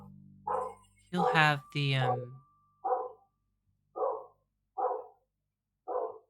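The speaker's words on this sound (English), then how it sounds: "It's a loud dog back there." A loud dog barks in the background, about five sharp separate barks spaced roughly a second apart, after a stretch of talking from people nearby.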